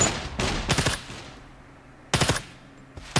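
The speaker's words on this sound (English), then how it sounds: "Yeah, I got shot through the wall." Gunshots in the survival game SCUM come through a wall as sharp, loud bursts: a rapid cluster of about three, then a pause, then another quick burst and a final shot.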